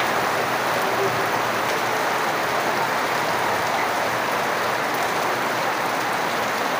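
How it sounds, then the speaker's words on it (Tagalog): Heavy rain pours over a construction site where steel rebar is being laid for a concrete slab, a dense continuous hiss of drops striking surfaces, loud and unbroken throughout. "lakas na ng ulan"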